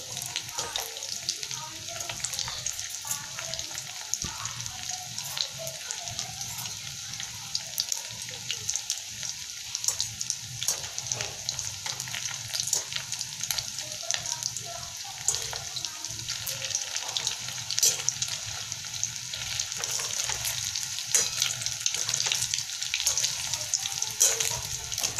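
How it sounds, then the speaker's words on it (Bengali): Luchi, Bengali puffed flatbread, frying in hot oil, giving a steady broadband sizzle and bubbling that runs throughout at moderate loudness, with faint clatter and brief murmurs of speech in the background. "এবার লুচি ভাজাচ্ছি"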